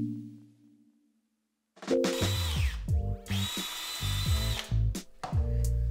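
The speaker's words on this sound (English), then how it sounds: "How to hold a drill 101." A power drill whirs loudly in several bursts after a quiet start, its motor revving up and down between short pauses.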